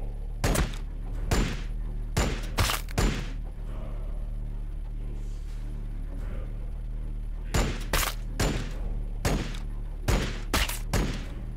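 Bursts of rapid gunfire from the video game Warhammer 40,000: Battlesector, sharp cracks in quick clusters separated by brief lulls, over a low steady background hum.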